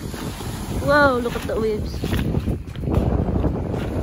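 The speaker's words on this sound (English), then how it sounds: "Look at the wind." Strong wind at a harbour buffeting the microphone with a steady low roar, accompanied by a brief voice and some background rumble.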